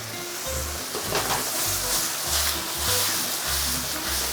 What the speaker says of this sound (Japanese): しばらく炒め合わせていきます。 ね、野菜たちの甘みが加わりますからね。